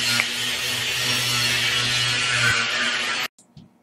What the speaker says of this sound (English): So we just grinding it down now.